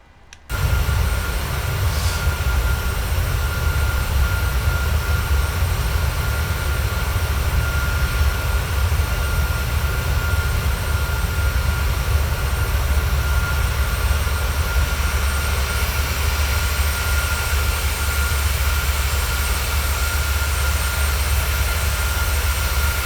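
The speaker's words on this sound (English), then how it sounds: "Beautiful plane, the PMDG 737-800." Engines of a PMDG 737-800 airliner in Microsoft Flight Simulator 2020 give a steady, unbroken drone that starts after a moment of silence and holds at an even level throughout.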